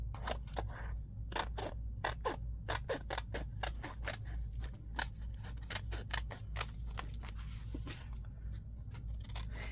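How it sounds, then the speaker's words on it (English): Scissors trim paper for a handmade junk journal wallet, making a steady run of close, crisp snips over a low background hum. "So I'm going to trim around so we can get the idea of the width on these."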